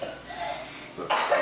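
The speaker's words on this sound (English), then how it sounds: "We got some coughs and some sneezes out of the way." A person coughs in a kitchen, one throaty burst followed by a second harsher cough close to the microphone, short and loud against a quiet background.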